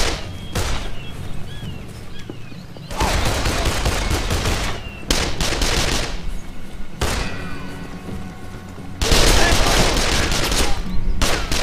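Rapid automatic gunfire rattles in the shooter Call of Juarez: The Cartel, dense bursts with thuds and impacts, loud and close, continuing in waves over about twelve seconds.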